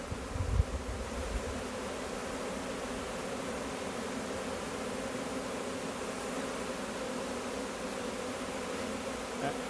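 A honeybee swarm fanning in and around a can at a low swarm-catch site gives off a steady, dense buzzing hum that runs the whole time, close and even, with a brief rustle near the start and no talking.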